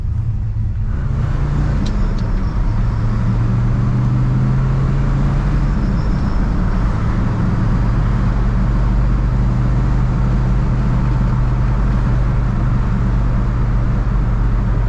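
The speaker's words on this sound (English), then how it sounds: "she rose through the gears nice and fine, made our U-turn, and we're back on the road." A 1966 Chevrolet Biscayne L72 rumbles steadily on the road, its engine noise loud and continuous as it climbs through the gears, with the drone shifting pitch over the run and no voices present.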